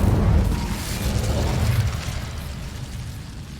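Incendio fire spell cast in Hogwarts Legacy: a loud, deep whooshing burst that flares at once and then rolls into a rumbling, crackling roar, slowly fading over a few seconds.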